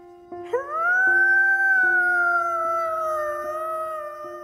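A dog lifts its head and howls in one long, clear, sustained tone that rises at the start and slowly falls, loud and close over a faint steady hum.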